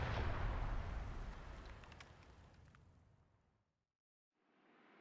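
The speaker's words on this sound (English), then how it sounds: "The palace cannon fires a single shot toward the British ships." A palace cannon fires a single shot toward British ships, a loud booming blast that rolls and fades over a few seconds into near silence.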